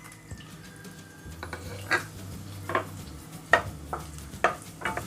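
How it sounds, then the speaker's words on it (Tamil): Small onions and bay leaves fry in oil in a pan for a Chettinad chicken curry, with a soft sizzle under several distinct scraping strokes of a spoon stirring against the pan in an uneven rhythm. "இப்போ வெங்காயம் வதங்கட்டும்."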